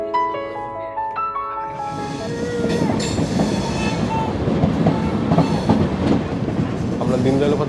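A steady rolling clatter of the Farakka Express on rails between Malda and Varanasi, close and loud, with rhythmic wheel clicks building up after a brief quieter opening.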